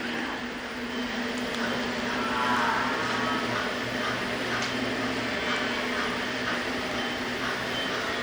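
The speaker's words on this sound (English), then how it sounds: "Here comes the train." An HO scale model train runs on a museum layout, giving a steady, continuous low rumble and whir with a faint murmur of background voices throughout.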